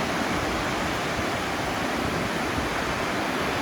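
Waterfall on a hike in Val Venosta in the Alps near a glacier, a loud, steady broadband roar of rushing water with no voices.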